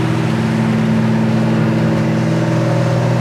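Steady droning hum of a 1966 Chevelle SS engine cruising at around 2,500 RPM and 60 mph, heard from inside the car as a continuous loud low rumble with road noise and no talk.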